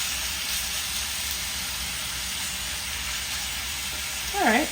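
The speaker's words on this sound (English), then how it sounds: "I'm going to place the chicken breast into the pan." Chicken breast sizzling in hot oil in a medium cast iron skillet: a steady, close broadband hiss that swells briefly near the end.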